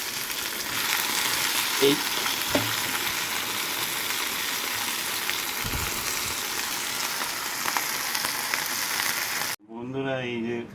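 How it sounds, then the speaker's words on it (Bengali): Food frying in oil in a pan gives a steady, close sizzle with a few stirring knocks, before a voice speaks briefly at the end. "মোটামুটি ফ্রাই করে নিতে হবে।"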